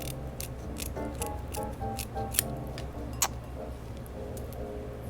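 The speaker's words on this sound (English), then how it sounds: "take your kitchen shears, and all we're going to do is cut right along there" Kitchen shears snip along the backs of raw shrimp, producing a series of sharp, close clicks and crunchy cuts at an irregular pace over a steady low kitchen hum.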